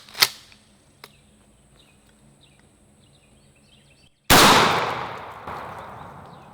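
A single loud shotgun blast with number 7.5 birdshot fired through walls cracks sharply after a few faint clicks and knocks, then trails off in a long fading echo.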